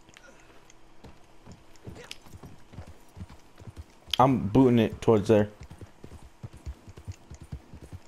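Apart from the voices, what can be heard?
horse galloping in a video game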